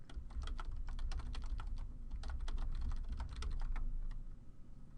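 Rapid, close keyboard typing with irregular clusters of crisp key clicks while entering a login username and password, quiet and without speech.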